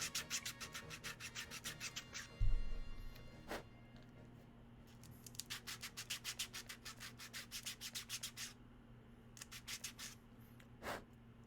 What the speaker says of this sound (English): I started sanding my 3D print.